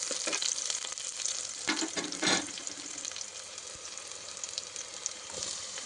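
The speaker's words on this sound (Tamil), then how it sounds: "பச்சை மிளகாய் ஆட் பண்ணிவிட்டு நல்லா வதக்கி விட்டுக்கோங்க." Onion, garlic, curry leaves and green chillies sautéing in a pot, a bright continuous hiss and crackle, close and fairly loud, with a few louder bursts of stirring partway through.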